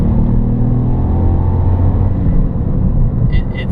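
A 1.0-litre three-cylinder Ford Fiesta engine accelerating on a test drive, with a steady, loud, low rumble and a droning hum that rises slightly and continues throughout.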